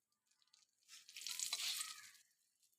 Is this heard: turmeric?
yes